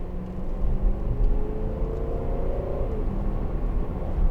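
A 2012 Range Rover TD V8 diesel engine runs with a steady low rumble and whir throughout, holding a continuous, moderately loud drone with slight rises as it pulls, heard from inside the vehicle with no talking.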